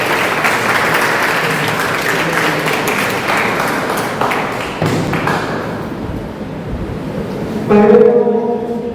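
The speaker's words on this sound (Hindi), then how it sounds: "जोरदार तालियों से" An audience at a career guidance event in Sujangarh breaks into loud, sustained applause that fades near the end, followed by a short ringing tone.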